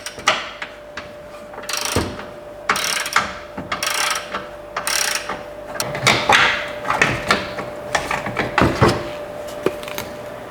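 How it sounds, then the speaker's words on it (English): A 13mm socket wrench works loose the battery hold-down bar on a Chrysler 200, giving close, loud ratchet clicks in short uneven bursts with metallic knocks between them, and no talking. "we can go ahead and remove the hold down bar, and that's a 13mm as well."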